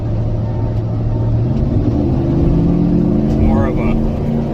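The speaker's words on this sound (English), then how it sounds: "As soon as Joey starts up his truck, we're going to head out to the highway" A pickup truck engine rumbles loudly and steadily up close, with a rising whine as it pulls away, while voices talk over it.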